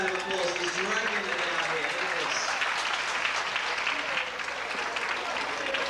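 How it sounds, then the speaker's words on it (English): An audience at a 1993 event applauds steadily for several seconds, a dense wash of clapping filling the room while a voice talks over it. "Give them a nice round of applause."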